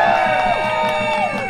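A crowd at a Rutgers University rally cheers, with sustained whoops and raised voices overlapping in a continuous roar across the moment.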